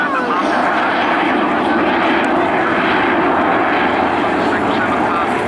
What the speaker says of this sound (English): Jonathan Lazari, the AEO, is opening the bomb bay as she goes by